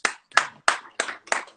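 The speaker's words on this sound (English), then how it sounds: "Everybody, give her a round of applause" Five crisp hand claps in a steady, even rhythm, close and fairly loud, with no talking, given in a round of applause for a guest during an Instagram live stream.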